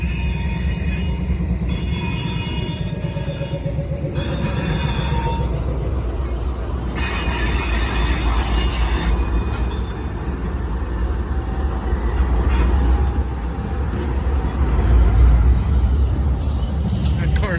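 A long freight train rumbles past close by, with steady rolling wheels and high metallic squeals, continuous throughout.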